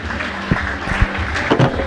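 A crowd at a seminary graduation ceremony in Moshi claps for the best female student, making a brief, dense wash of applause that fills the room evenly.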